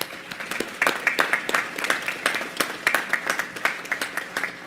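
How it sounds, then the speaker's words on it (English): An audience at a physician assistant white coat ceremony claps for the family members and friends gathered there. The applause is moderate and fairly distant, with crisp individual claps showing through a steady patter. "can we give the family members and friends who gathered here today for these students a round of applause?"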